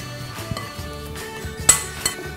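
A spoon scraping and clinking against a bowl as mango salsa is stirred with salt and hot chili sauce, a run of close, light metallic taps and one sharper knock.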